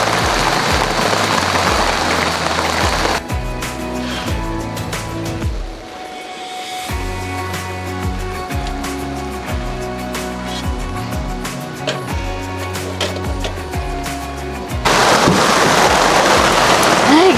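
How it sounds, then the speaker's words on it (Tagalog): Heavy monsoon rain pours down at a solo campsite during a storm, a steady loud wash with dense patter, briefly easing midway before surging again, while music-like tonal sounds run underneath. "grabe, lakas ng ulan"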